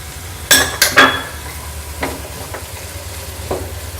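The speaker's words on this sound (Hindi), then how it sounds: "अब हम ये शिमला मिर्च भी डाल देंगे।" Chopped capsicum tossed with roasted spices in a hot pan for tawa paneer masala, with a spoon clanking against the metal several times over a steady background sizzle.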